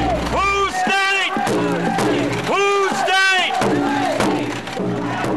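A crowd of protesters in Madison chants loudly in a repeating rhythmic call, many voices rising and falling together in steady cycles.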